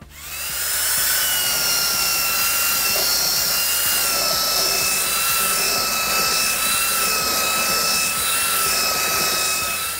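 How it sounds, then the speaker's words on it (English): Belt sander working the top of a pallet-wood coffee table, a loud continuous whine with steady high tonal hum, running close and unbroken from start to finish. "I'm going to give it a good sand up using a belt sander"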